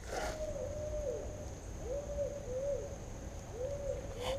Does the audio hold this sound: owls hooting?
yes